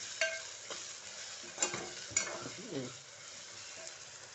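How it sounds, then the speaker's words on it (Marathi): Tomatoes mashed and fried in oil in a pan, a faint sizzle with soft scraping and a few sharp spatula taps against the pan, close but quiet, no talk. "आता आपलं टोमॅटो ना थोडं मळकून द्यायचं तेलात"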